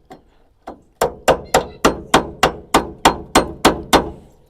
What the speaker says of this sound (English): Now go from behind, from below. Use the same thin bolt and tap on it.